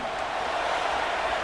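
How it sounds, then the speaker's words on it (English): Roaring stadium crowd in the Madden NFL 25 football video game during a Giants versus Falcons matchup, a loud, steady, dense wash of noise that holds constant throughout without distinct cheers or talk. "this crowd making it hard to hear."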